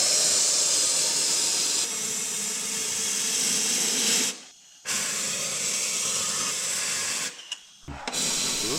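An Otoprotec oil sprayer with an inner cavity attachment in a fan pattern sprays undercoating oil in long steady hissing bursts, cutting off briefly twice between sprays, close and loud.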